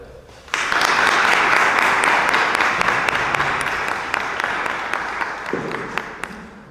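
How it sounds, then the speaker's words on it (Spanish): An audience at a church brotherhood conference breaks into a big round of applause, starting abruptly and loudly, holding steady, then gradually thinning as a voice begins near the end. "pedir un gran aplauso para él"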